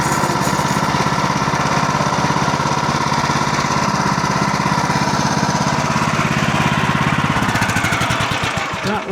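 A small sawmill engine on a Woodland Mills HM126 runs loudly and steadily with a rough, rattling chug, close by, sputtering unevenly near the end as it fails to rev up properly.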